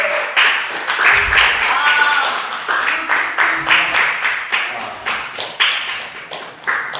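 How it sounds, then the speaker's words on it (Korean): Congregation at a Korean church service clapping in scattered, uneven bursts of individual claps, fairly close and loud, with voices talking over and between the claps. "자, 우리 남규식 군 박수."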